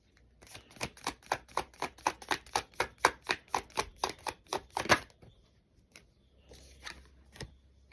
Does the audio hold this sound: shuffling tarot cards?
yes